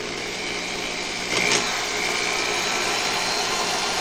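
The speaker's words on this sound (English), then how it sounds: "my drill in reverse." A power drill runs continuously in reverse, turning an old motorcycle speedometer cable stuck in the drive hole, giving a steady close whine with a brief louder surge partway through.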